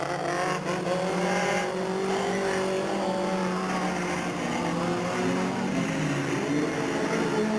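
Race cars battling side by side on the front straightaway of Delta Speedway in 1997, a steady loud roar of engines held at high revs throughout, with pitch shifting as the cars jostle for position.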